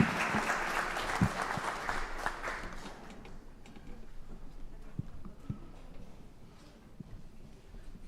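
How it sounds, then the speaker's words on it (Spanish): An audience at a panel discussion applauds the speakers, a brisk wave of clapping that dies away after a few seconds, leaving sparse scattered claps and faint room noise. "Muchas gracias, con un aplauso a los expositores."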